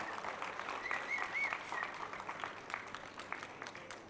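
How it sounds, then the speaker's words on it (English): Steady applause from an audience for a 10th grade students' elemental dance performance at a school annual day, a continuous wash of clapping at moderate volume with faint whistles and cheers woven in. "Let's give them one more big round of applause for that stunning elemental performance."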